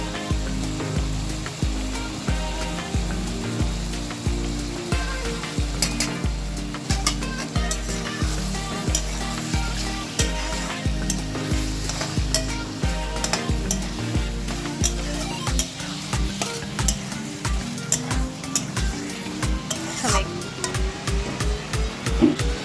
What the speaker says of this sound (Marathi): हे चांगलं परतून घेऊया आपण चटणी टाकवायची